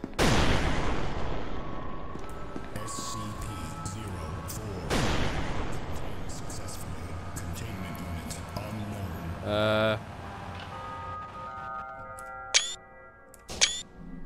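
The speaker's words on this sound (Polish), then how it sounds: "wybucha, co za granaty w windzie się dzieją" Several heavy booms and blasts from grenade explosions in an elevator in SCP: Secret Laboratory, separated by gaps, with a rumbling tail and sharp electronic effects near the end.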